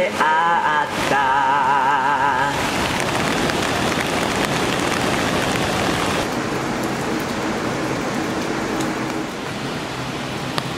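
Steady rain pouring down in a mountain forest near a hot spring monkey park in Nagano, a dense loud hiss of drops that continues unbroken, with a brief clatter of other sounds early on.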